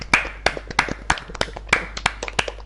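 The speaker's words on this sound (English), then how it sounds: "Applause all around for that." Scattered handclaps from a few people, sharp and uneven in rhythm, close by for a couple of seconds.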